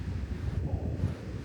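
Wind gusts buffet the microphone at Lulusar Lake in hot weather, a rumbling, uneven roar that swells and dips without pause.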